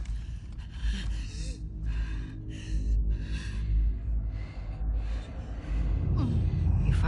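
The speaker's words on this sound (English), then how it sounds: "Your breathing's worse." A wounded character in The Last of Us Part II breathing hard, with ragged gasps and heavy, strained breaths repeating close up over a low game backdrop.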